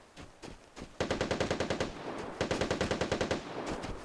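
Automatic gunfire in the online shooter Vigor: two sharp rapid bursts of rhythmic rounds, loud and close, with a few scattered single shots before the first burst.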